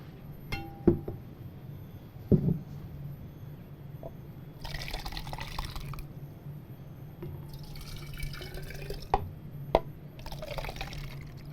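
Water kefir pours in a couple of gurgling spells into a cup, with small clinks of glass and scattered drips between them.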